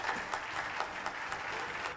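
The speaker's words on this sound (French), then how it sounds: "Alors applaudissements pour Jean-Marc Laurent" Studio audience applauding guest Jean-Marc Laurent on a French television show, a steady wash of clapping that runs throughout at moderate level with a few sharper peaks.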